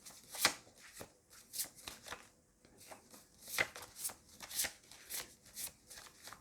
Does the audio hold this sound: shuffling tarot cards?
yes